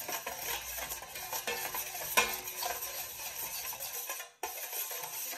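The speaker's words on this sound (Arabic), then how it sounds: "نحرك" A spoon stirs a benzoin incense mixture in a pot over gentle heat, giving a steady scraping, clinking churn with faint sizzle, broken by a brief pause near the end.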